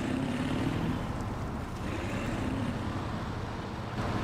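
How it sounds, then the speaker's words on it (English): A truck engine in the off-road driving game SnowRunner, played on a steering wheel, gives a steady, broad rumbling drone with a low hum throughout, fairly loud and without any talk. "Sound of that engine is so impressive."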